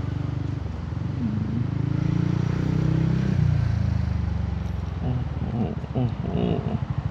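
A motorcycle cruising steadily at about 5,000 rpm on the road, its engine a continuous, fairly loud drone with wind rush, while someone talks over it throughout.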